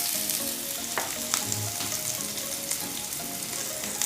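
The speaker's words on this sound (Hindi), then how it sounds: "तेल अच्छे से गर्म हो गया है। अब मैं इसमें डाल दूँगी 1 छोटा चम्मच जीरा, 2 कटी हुई हरी मिर्च" Cumin seeds and chopped green chillies hit hot oil in a pan for bread pakora, giving a steady close sizzle with small crackles and a few sharp pops, no voices.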